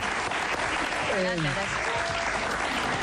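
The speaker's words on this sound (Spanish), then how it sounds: "Un aplauso para Silvia, por favor." Steady audience applause at a fairly low level fills the background while a person speaks briefly over it.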